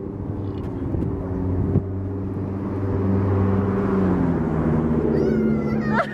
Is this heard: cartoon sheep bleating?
no